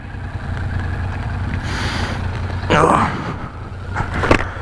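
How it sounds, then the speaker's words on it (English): A Yamaha MT-07 motorcycle exhaust idles with a steady low rumble, and a few short voice bursts sound over it. "That exhaust, that's actually sounded alright there."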